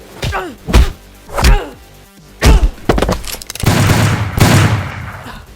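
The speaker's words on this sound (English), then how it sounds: "Someone is bound to have heard those gunshots and they'll be coming quick" Several loud gunshots crack out at irregular intervals, close and sharp, followed by a burst of rapid firing and rumbling noise.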